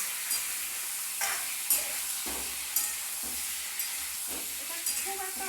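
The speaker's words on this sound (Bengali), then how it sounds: "একটুখানি জিরে পোড়ন দিয়ে করছে সঙ্গে দুটো লঙ্কা দিয়ে দিচ্ছে আগে আর পেঁপেটাকেও দিয়ে দিলাম" Papaya pieces go into a pan of hot oil tempered with cumin seeds and green chilies, sizzling and frying steadily with a few sharp stirring scrapes and spatula knocks throughout, close and without any talking.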